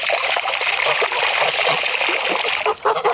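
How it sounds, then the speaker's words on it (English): Tap water running steadily while filling a water container for ducks or geese, a continuous close hiss and splatter that lasts throughout with a slight change near the end. "I was filling up the water for the ducks, or for the geese, and I forgot to turn it off"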